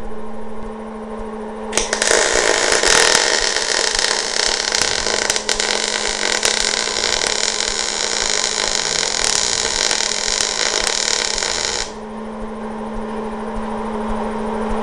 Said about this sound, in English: all I have to do is hit my torch and it'll start welding